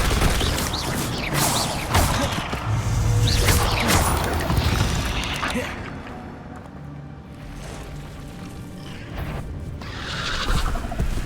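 The Levioso spell is cast in Hogwarts Legacy gameplay amid dense, loud bursts of magical whooshes and impacts that swell and fade over a steady game backdrop, with no talk.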